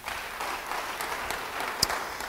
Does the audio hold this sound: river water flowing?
no